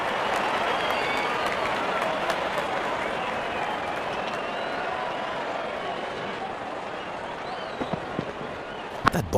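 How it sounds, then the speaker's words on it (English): A stadium crowd in the Real Cricket video game cheers and applauds after a special innings, a loud, continuous roar of clapping that holds steady throughout with a few sharper claps near the end. "Crowd on their feet to cheer the moment."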